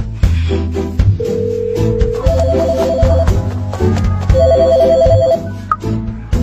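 A telephone rings in short repeated electronic bursts, several clear rings across a few seconds over a busy background bed, close and loud, with no speech.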